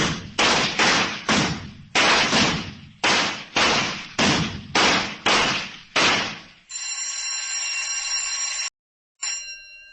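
Rapid-fire gunshots ring out at a shooting range in an old radio crime drama: about ten sharp, loud reports in quick succession, then a sustained bell ring after them.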